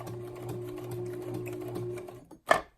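A home sewing machine hums and stitches steadily while sewing a zipper pocket into a notebook insert, its motor droning with rapid needle ticks, then it stops and a short sharp clunk follows.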